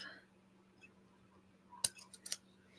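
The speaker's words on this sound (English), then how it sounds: "I'm going to use my not good scissors for that." Not-good scissors trim off a piece of a miniature dollhouse buffet, giving a couple of close, sharp snips followed by a few quieter cuts against a faint steady hum.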